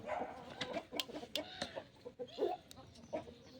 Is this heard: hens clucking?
yes